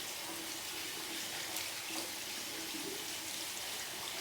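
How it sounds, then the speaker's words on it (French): Utensils are rinsed under a running tap, with a steady, faint hiss of flowing water and a few soft clinks, no talking. "je vais rincer mes ustensiles."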